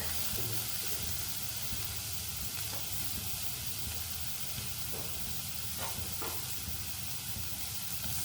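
Grated garlic sizzles steadily in hot oil in a pan for rasam with a pinch of hing, a soft, continuous crackle and hiss with occasional faint stirring clicks.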